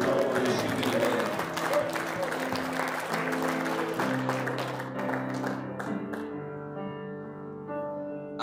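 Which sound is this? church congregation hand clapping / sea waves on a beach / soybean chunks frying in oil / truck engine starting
church congregation hand clapping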